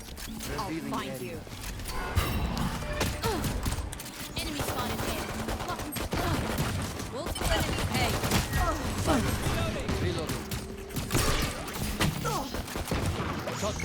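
Rapid gunfire from a Valorant round crackles through most of the stretch, with clustered bursts and scattered single shots running under ongoing voice chat.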